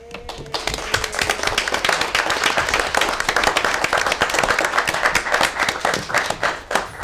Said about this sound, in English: I ask everyone to join me in giving the incredible woman in our lives a well-deserved round of applause